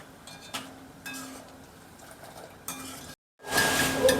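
Cashews frying in hot oil for poha chivda while being stirred, a soft steady sizzle with scattered clinks of a spoon against the pan, brief louder scraping bursts, a short silent gap, then a fuller, louder crackle.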